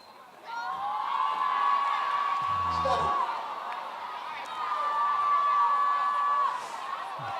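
Athletics stadium crowd at a national relay meet rising in a roar and whoops after a false start, distant and sustained in two swells, with a clear whistle tone sounding over it.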